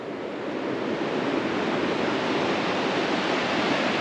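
Rushing water above a rapid on the Middle Fork of the Salmon River, a dense, steady roar of churning current heard up close with no breaks or voices.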